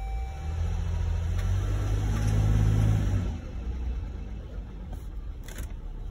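A 2021 Jeep Grand Cherokee with the 3.6 engine, logging several fault codes, hums and rises steadily while pulling away in drive, then drops to a quieter idle-like murmur with a few faint clicks.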